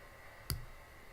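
A single faint, sharp mouse click sounds once against quiet room tone while a row is highlighted and deleted in an inventory spreadsheet.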